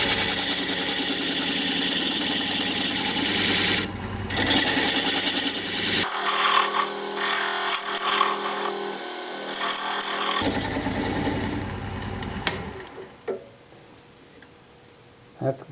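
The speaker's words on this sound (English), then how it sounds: "use my dovetail tool for the dovetail on the side here" Wood turning on a lathe with a dovetail tool cuts an odd-shaped piece, giving a loud, continuous scraping and rubbing over the machine's hum, with pauses and shifts as the cut changes before quieting near the end.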